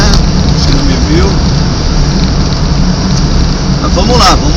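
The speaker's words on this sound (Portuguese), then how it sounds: "E a chuva não vai parar não." Heavy rain pounds steadily on a car while driving, a dense loud roar with road and engine rumble underneath and someone speaking briefly over it.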